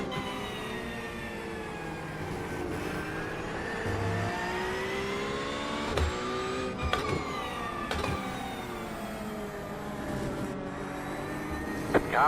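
A Corvette racing in the iRacing simulator, its engine note rising and falling through shifts as it laps the track, moderately loud, with brief thumps and clicks and no speech.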